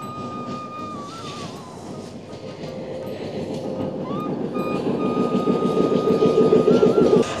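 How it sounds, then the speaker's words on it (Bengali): A freight train approaches Jayrampur railway station in Chuadanga district, its low rolling rumble growing steadily louder and nearer, with faint tonal squeals over the rail noise and no talk. "ট্রেনটা একেবারেই কাছে চলে আসছে।"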